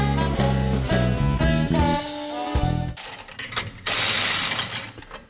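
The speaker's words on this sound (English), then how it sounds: "Let's tighten these down right now." A hand ratchet clicks close and loud, tightening bolts while an Air Lift 5000 air spring kit goes onto an older Ford, Chevy or Dodge truck, with rapid pawl ticks and a metallic ringing clatter over the final seconds.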